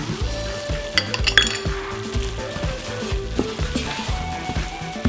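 Onions, flour, cumin, chili powder and cayenne sizzle steadily in a pan as a base for chicken chili, with repeated clinks and scrapes of a utensil stirring through the fry.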